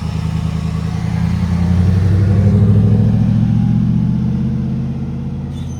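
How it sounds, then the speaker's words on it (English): A Harley-Davidson pickup truck passing by in low gear: a loud, steady engine drone that swells as it nears and eases slightly as it moves away, with no talk. "So now we're having her come by in low gear."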